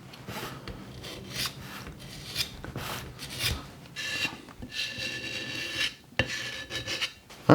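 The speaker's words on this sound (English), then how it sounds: "Basically just clean up the seam here with an old putty knife." An old putty knife scrapes along the damp, still-curing seam of a fresh plaster mold, giving a series of close, gritty rasping strokes of varying length with brief pauses between them and no talking.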